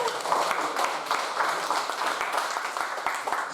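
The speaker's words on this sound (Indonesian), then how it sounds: "kita tepuk tangan semua" An audience at a church training gathering claps together in steady, dense applause that continues throughout without pause.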